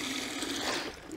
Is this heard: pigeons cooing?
no